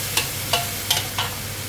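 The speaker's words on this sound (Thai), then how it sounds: "ผัดให้สุกๆหน่อยนะคะ" Straw mushrooms and squid stir-fried in a hot pan for a spicy Thai basil dish keep up a steady sizzle, punctuated by four evenly spaced scraping stirs, close and clear with no talking.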